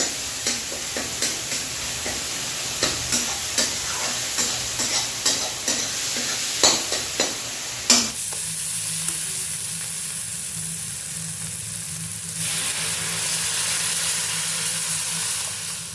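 Dal frying and being stirred in a pan for a Teej fast meal, a steady sizzle with a run of regular scraping strokes, then a louder hissing fry after a sharp clank, with no voices.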